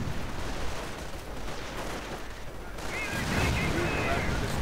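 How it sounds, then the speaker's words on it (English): Incendiary grenades explode among troops in a war strategy video game, giving a dense, continuous rumble of blasts and gunfire that swells louder toward the end, with a shrill tone sounding briefly. "Incendiary grenades going off on the American positions."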